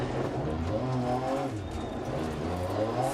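Rally car engine in DiRT Rally 2.0, a revving motor with rising and falling pitch sweeps heard quietly under a voice talking.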